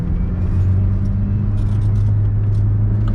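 Renault Super 5 GT Turbo (Phase 1) engine pulling hard under acceleration, a loud steady low drone heard from inside the car with constant rumble and no voices.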